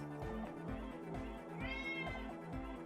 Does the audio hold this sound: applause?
no